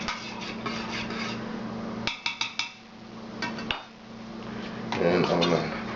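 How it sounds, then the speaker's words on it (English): Spoon stirring pine needle tea in a metal pot, with a few sharp clinks against the side in a quick cluster midway and a steady scraping swirl before and after, close and fairly quiet. "I'm going to stir it up real good."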